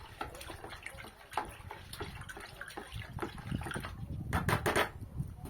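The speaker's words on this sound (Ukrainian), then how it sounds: "Дуже гарно розмішуємо препарат наш в теплій воді." A pale-yellow, viscous pesticide emulsion is stirred into warm water of about 50 degrees, making faint, continuous sloshing and swirling liquid sounds close by, growing slightly busier toward the end.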